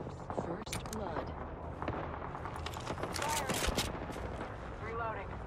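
Gunfire in the video game Apex Legends: steady, busy battle noise with scattered shots and bursts under constant game voices and chatter. The firing comes at moderate level and never stands alone.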